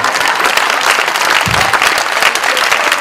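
An indoor audience at a conference breaks into sustained applause, a dense, steady wash of many hands clapping from start to finish with no talk over it.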